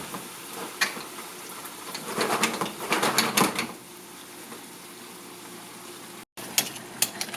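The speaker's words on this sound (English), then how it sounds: "Okay, so we're just going to let all this fish cook together." Fish stew with tomato simmering in a pot for an Italian Christmas meal, with a soft steady bubbling and crackle and several brief clinks and taps rising above it; no voices.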